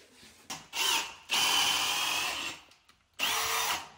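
Power drill driving a screw into a large log, countersinking it about 1.5 inches, in bursts: a short spin, a long steady grind, then another short burst with gaps between.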